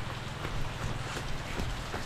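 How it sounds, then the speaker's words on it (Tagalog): Heavy rain pours steadily outdoors in a dense, constant hiss of drops on surfaces, with a low rumbling undertone and no voices heard. "Sobrang ulan. Lakas ng ulan."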